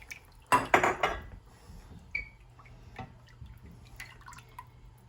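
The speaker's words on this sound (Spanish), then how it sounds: "Tengo que estarlo moviendo y moviendo para que no se me vaya a cortar" A spoon clanks in a pot of Honduran conch soup with coconut milk and yuca, starting with a loud clattering scrape and then softer, scattered taps and liquid drips in a quiet kitchen.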